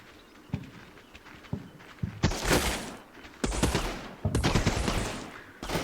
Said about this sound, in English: There's a machine gun nest somewhere up the hill and they can see us through all this vegetation